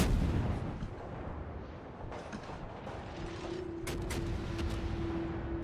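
Naval gunfire from warships in World of Warships, with heavy booming shots: a loud blast at the start, then a few sharp distant cracks and rumbles later on, over a low background drone.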